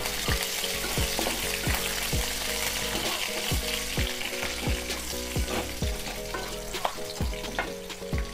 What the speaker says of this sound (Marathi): लगेच आपण त्यामध्ये कांदा आणि कढीपत्ता टाकूया